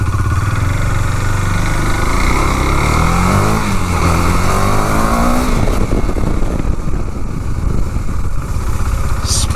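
A KTM 390 Duke motorcycle fitted with a K&N air filter revs and accelerates through gears on a short test ride down a narrow lane, its engine loud and close, rising in pitch then easing off.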